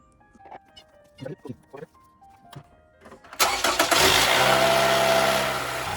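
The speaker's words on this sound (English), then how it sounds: "start the engine, let it warm up a minute or two" A Toyota Camry with a 2AR-FE engine cranks and fires up after a few short clicks and knocks, then settles into a loud, close, steady warm-up idle.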